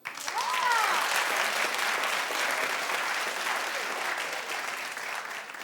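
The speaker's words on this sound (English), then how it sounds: "Clap if you're happy" Studio audience on a daytime talk show bursts into sustained applause, dense and loud throughout, with a few whoops rising briefly near the start before the clapping carries on steadily.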